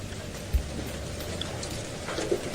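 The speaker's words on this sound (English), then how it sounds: "It's hailing outside." Hail falls outside during a thunderstorm, a dense steady patter of impacts on surfaces with a couple of louder hits, continuous and fairly close.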